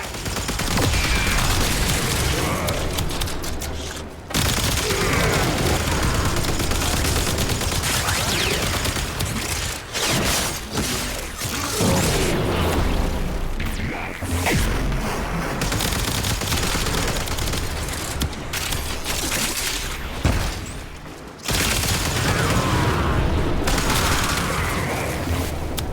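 Warframe combat fills the stretch with dense, continuous volleys of automatic gunfire and booming impacts, loud and near, broken only by a couple of brief pauses.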